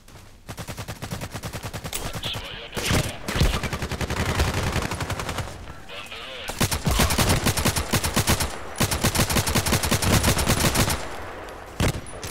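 Sustained automatic gunfire in the video game Contract Wars, with dense rapid bursts and several sharp single shots rattling almost continuously for the whole stretch, loud and close.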